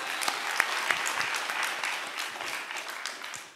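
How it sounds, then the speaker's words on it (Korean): Warm, sustained applause from a church seminar audience in Incheon, a thick crackle of clapping hands at constant level with scattered sharper claps, fading slightly near the end. "목사님, 예, 500명 박수치고."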